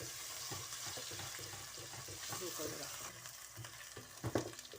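Coarsely pounded green chillies frying in a pan, a dense close sizzle with soft stirring scrapes and a few louder knocks toward the end, no talking.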